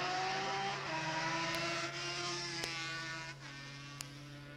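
A 1977 racing car's engine holds a steady, droning note as it drives into the first left-hand curve, with the pitch dipping slightly through the bend before a brief click near the end.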